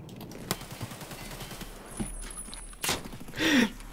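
A single loud gunshot in a one-on-one first-person shooter match, landing a headshot; a sharp close report stands out over steady game ambience and faint footsteps, followed by a second burst of noise shortly after.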